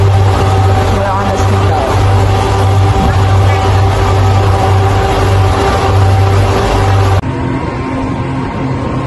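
Speedboat engine droning steadily on the water near Phuket, a loud low hum with wind and hull rumble throughout, dropping in level near the end.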